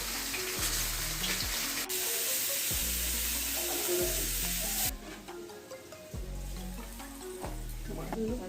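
Cumin seeds sizzle in hot oil in a pan with a continuous crackling hiss that drops slightly halfway through, while a low repeating hum runs underneath.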